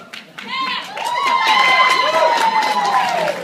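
A wedding reception crowd cheers and claps after a best man's toast, with whoops and shouts rising over a steady wash of applause that swells and holds, fairly close.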